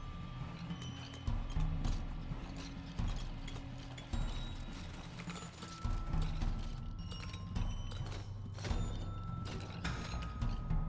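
Clip-clop hooves of the Horse Boss in the video game Halls of Torment, a steady galloping patter over a dense, busy game soundscape of low rumbling and scattered chimes, with no speech.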